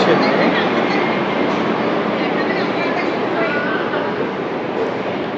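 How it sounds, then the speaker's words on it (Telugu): The Kerala Express rumbles into a railway station, a loud, continuous roar of wheels and carriages close by, with voices mixed faintly underneath. "ఇప్పుడు ఒక ట్రైన్ వచ్చింది"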